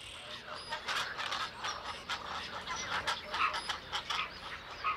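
Pelicans and other waterbirds call from a nesting colony in the Danube delta, a dense, distant chorus of overlapping honks and croaks over a steady wetland background.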